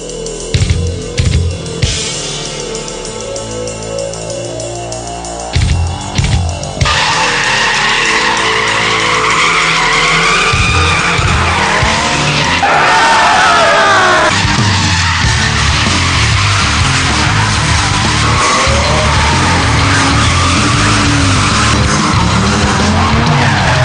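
Drift cars work a twisty mountain road in Japan, engines revving hard and tires squealing in long, loud sustained slides, one run blending into the next with no talk.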